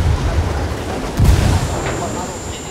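A frag grenade explodes in Ghost Recon Wildlands, a single low boom about midway through, set against steady loud battlefield rumble.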